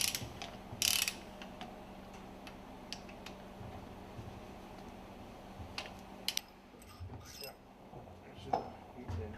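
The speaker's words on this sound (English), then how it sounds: "Loosen and remove the screws from the plunger and barrel assembly" Screws being loosened on the plunger and barrel assembly of a MAN B&W fuel pump during an overhaul, giving faint ratcheting clicks and small metallic ticks scattered through a quiet workshop background.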